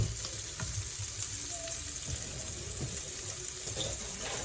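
Steak frying in a pan, a steady close hiss and sizzle with faint pops, continuous and even throughout, no voices.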